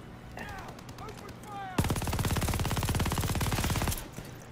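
Rapid automatic gunfire in the World War II shooter Call of Duty: Vanguard rattles loud and close as a long sustained burst, after a few scattered shots and a muffled voice.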